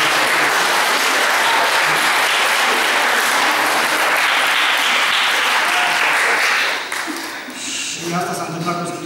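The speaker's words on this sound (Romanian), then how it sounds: "Vă rog să îi aplaudați" An audience at a school award ceremony for an interdisciplinary Mozart competition in Turda applauds loudly and steadily for several seconds, then the clapping thins out as a voice begins to speak.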